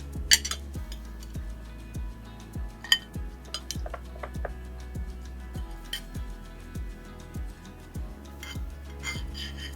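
Plates handed out at a table to serve a Bengali vegetable-peel chhechki, with scattered bright clinks and taps over a steady rhythmic low thumping in the background.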